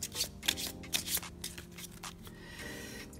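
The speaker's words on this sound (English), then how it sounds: "you have to shuffle your deck" A Palm Island card deck being shuffled by hand, close and quiet, with several quick riffling bursts and soft scraping between them.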